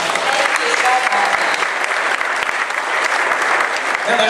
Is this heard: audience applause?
yes